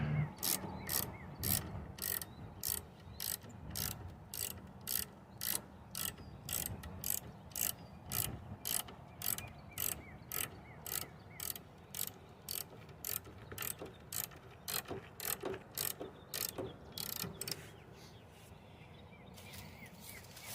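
Tilting up the cab of a John Deere 35D mini excavator sets off steady, evenly spaced mechanical ratcheting clicks, close and sharp, repeating for a long stretch before stopping near the end.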